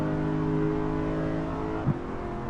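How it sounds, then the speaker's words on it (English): Engine note of an Aston Martin safety car in the racing game Assetto Corsa, a steady droning hum with harmonic tones held at speed, plus a brief bump near the end, with no talking. "Oh, just listen to that engine."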